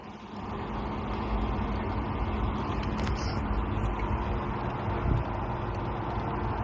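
Street traffic passing at a roadside, a steady broad rumble of cars and trucks with wind noise on the microphone and no clear voices.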